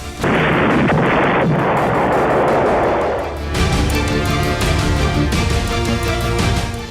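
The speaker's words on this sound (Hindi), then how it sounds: "जब इलेक्ट्रिक जनरेटर में धमाका हुआ" A loud, sustained roaring blast from an exploding electric generator, with crackling bursts, continuing as a dense rumble of booms and pops throughout.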